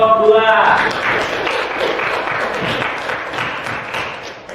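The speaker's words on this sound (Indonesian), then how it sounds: "Tepuk tangan buat kelompok 2." Classroom applause for a student group after their presentation, a dense wash of many hands clapping steadily for several seconds, fairly loud, with a brief voice at the very start.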